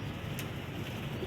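Rampuri pigeons, an old Indian breed also called Banka or Chanda Khani, cooing softly from a short distance, with one brief flutter-like burst over a quiet background.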